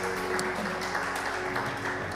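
Congregation applauding during a Brazilian Portuguese evangelical worship service, a dense steady wash of clapping filling the whole stretch with a faint musical hum beneath it.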